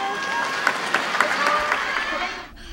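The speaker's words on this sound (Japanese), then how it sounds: "そしてお客さん、それからこのジャッジからも大きな拍手が寄せられました。" An audience at a 2007 Japanese figure skating event claps loudly and steadily after a winning performance, the dense applause filling the hall before cutting off abruptly near the end.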